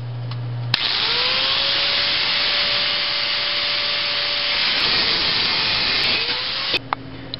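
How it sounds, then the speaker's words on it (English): A loud, steady abrasive cutting roar grinds through metal pipe for several seconds, its whine dropping in pitch partway through, then stops abruptly with a few clanks. "cut my pipe to length"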